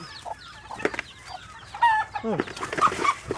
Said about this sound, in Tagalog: yung aking mga alagang Rhode Island Red.